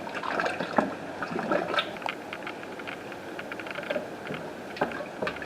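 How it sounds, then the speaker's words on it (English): Cornmeal mash for moonshine is stirred in a barrel, giving continuous wet sloshing and swirling with irregular splashy surges, close and moderately loud, with no voices. "you're just going to stir this mixture up until you don't see any clumps"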